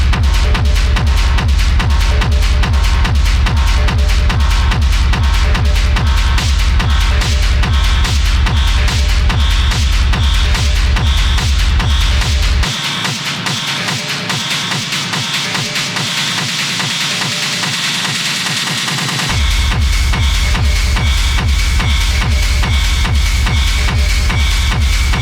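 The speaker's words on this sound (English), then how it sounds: "So it's quite a noisy industrial track." A noisy industrial techno track plays loud and dense, with a driving pulse throughout; the heavy low end drops out for a few seconds midway, then returns.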